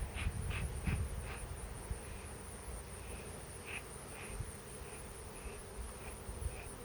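Honeybees buzz around an open hive during a Varroa mite inspection, a continuous close hum with a faint high whine, crows cawing now and then in the background.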